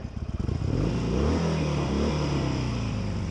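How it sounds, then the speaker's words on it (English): A Harley-Davidson 883 Iron Sportster's V-twin engine rumbles close by, starting with a few loping pulses before settling into a loud, steady potato-potato idle with a slight rev. "Just listen to that V-twin."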